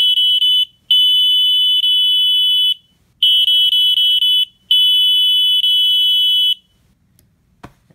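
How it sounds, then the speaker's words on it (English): A large piezo buzzer driven by an Arduino plays a tune in loud, shrill, piercing tones, held notes broken by short gaps, then stops abruptly with a faint click at the end. "So we got the big piezo buzzer."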